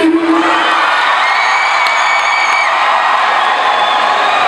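A large concert crowd at a show in Yaoundé cheering and applauding, a loud continuous roar filling the space with whoops rising throughout.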